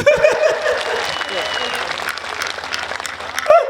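Audience applause at a Hindi comedy poetry gathering (hasya kavi sammelan), loud and dense clapping from a large crowd with a few chuckles, sustained across the clip and rising again at the end.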